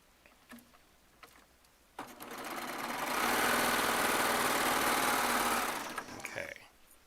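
A Baby Lock Triumph serger stitches two fabric strips together in one sustained run of a few seconds, its motor whir rising, holding steady, then winding down, with quiet handling noises before and after.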